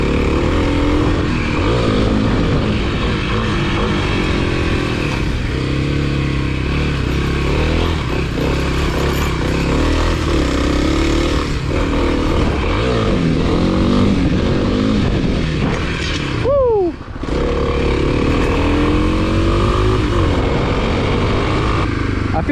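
A Kawasaki KLX300 dirt bike engine revs continuously on a trail, loud and close, the pitch rising and falling through the gears, with a short throttle drop and quick rev-up partway through.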